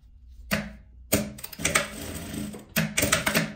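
Sewing machine stitching a closing seam along the sides of a folded denim scrap, heard as several close bursts of rapid mechanical stitching separated by brief pauses.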